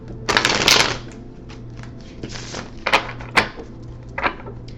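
A deck of cards is riffled and shuffled up close, with a long crisp burst followed by several shorter flicks and taps.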